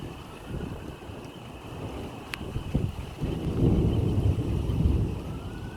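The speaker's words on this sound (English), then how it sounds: "we're in for such a storm" A thunderstorm with wind in Manchester, low rumbling and gusting wind noise buffeting outdoors, growing louder and rougher toward the end, with no talk.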